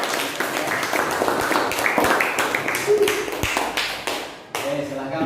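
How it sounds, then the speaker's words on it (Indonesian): Clapping from a classroom audience applauding a student group, scattered and irregular hand claps that thin out and stop, with voices talking underneath. "Sebelumnya kita beri tepuk tangan dulu."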